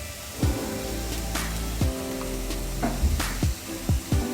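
A spoon stirs a jaggery filling with cardamom powder in a pan for Maharashtrian patolya, giving a steady sizzling hiss broken by several sharp scraping knocks against the pan at irregular intervals.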